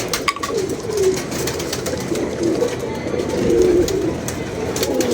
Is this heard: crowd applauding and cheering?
no